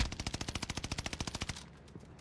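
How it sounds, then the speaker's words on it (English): Rapid automatic gunfire in the game Caldera, a fast even burst of about twenty loud shots fired through a wall, then stopping abruptly with faint room noise after. "Please, please hit one more shot through the wall."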